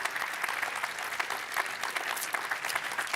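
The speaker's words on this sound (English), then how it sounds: "She deserves your applause." A TV studio audience applauds during a morning live show, sustained, even clapping at moderate level with no speech over it.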